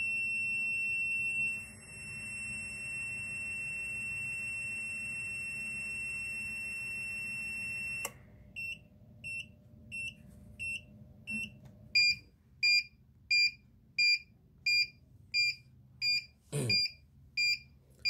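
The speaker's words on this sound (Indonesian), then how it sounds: "buzzer akan saya tutup karena suaranya terlalu keras" An ammonia gas detector built for a chicken coop, fitted with a fan, sounds its alarm buzzer: a steady loud tone gives way to a string of short, evenly spaced beeps that grow stronger, alone with no talk.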